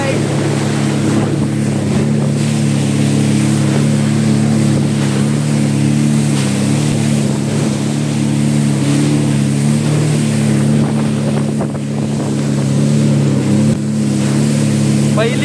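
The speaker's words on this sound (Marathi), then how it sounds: "तेरे को लेके जाने वाला है पानी के अंदर जेस्की राइड में" A jet ski roars across open water, its engine droning steadily and close throughout with wind buffeting the microphone and waves slapping, while voices talk over the ride.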